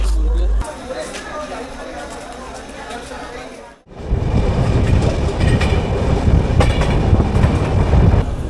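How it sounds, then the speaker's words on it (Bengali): Shipra Express pulling into Shujalpur station, a loud rumble of wheels and carriages with clattering rail noise that drops briefly, then surges back as the train rolls close past the platform. "একদম সঠিক টাইমে ট্রেন এসে পৌঁছে গেছে"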